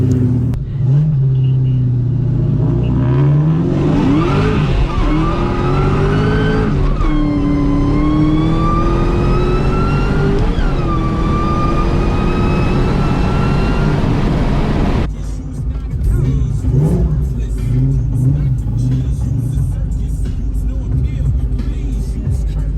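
Whipple-supercharged Ford Mustang Mach 1 at a crowded car meet, the engine revving up in several rising sweeps with supercharger whine, loud and close, then settling to a rough idle; voices are heard in the background.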